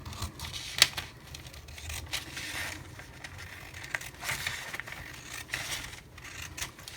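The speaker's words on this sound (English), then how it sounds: "And I'm just going to cut this one." Scissors snip through paper while a planner layout is cut, quiet irregular cuts and soft crinkles spread over several seconds.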